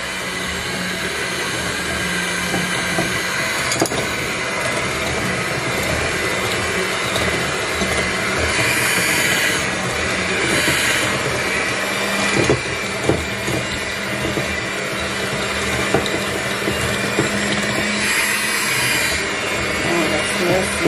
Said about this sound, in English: now we're gonna mix it with this mixer